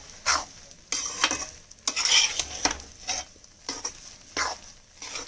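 Gram flour is stirred and scraped in a hot pan with a gentle sizzle, producing repeated rhythmic strokes and soft metallic scrapes with no talking.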